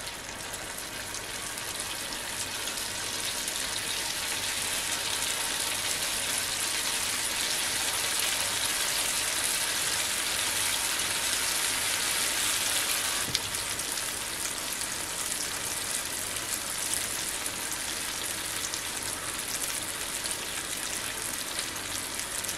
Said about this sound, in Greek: Αφήνετε να τηγανιστούν καλά.